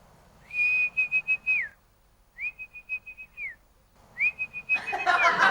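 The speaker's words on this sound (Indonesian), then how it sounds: "Tinggal siul." A person whistles three held notes, each pulsed into quick warbling beats, loud and close, with a rush of noise under the final phrase.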